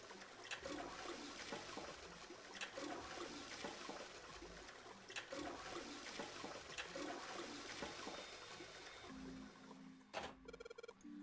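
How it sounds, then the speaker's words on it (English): In the video game 999, a toilet flushes after its string is pulled: a long, steady wash of rushing water with surging swells, ending in a few short electronic chime tones, with no voices. "There's that sound again. That happens when I pull the string a couple of times."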